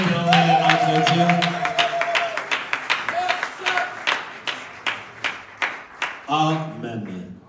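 A church congregation claps in worship, steady rhythmic hand claps, several voices calling out and acclaiming God, voices rising again near the end over the clapping.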